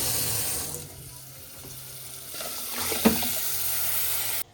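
Water pours steadily into a mixer grinder jar while a cook prepares milk rasam in a home kitchen, then stops abruptly at the end.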